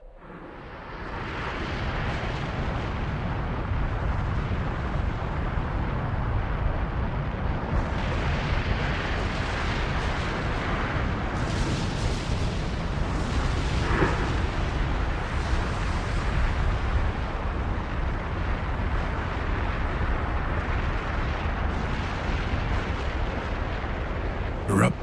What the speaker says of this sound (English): Erupting volcanoes shoot great geysers of molten rock high into the air, spewing hot fire far and wide.